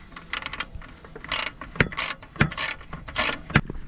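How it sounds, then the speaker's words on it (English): A ratchet and socket tightening a hex bolt on the alternator of a Peugeot 407 2.0 HDI, giving several short, close bursts of clicking with brief pauses between strokes. "So I'm actually going to use a ratchet and a head socket"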